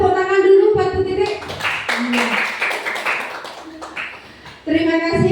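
A seated audience at a school teachers' session claps together for a presenter, a short burst of hand claps between stretches of someone speaking.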